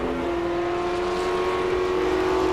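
Sports cars in a 2003 World Challenge Speed GT race at Mosport, among them an Audi and a Corvette, accelerate up the Andretti straightaway with a loud, steady, sustained engine roar and a strong harmonic whine throughout.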